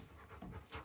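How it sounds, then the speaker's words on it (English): A dog pants rapidly and breathlessly after running around outside, a soft rhythmic huffing held close through a short stretch with no voices. "If you can hear the panting, the dog's been running around like a nutter outside, and now he can't get his breath."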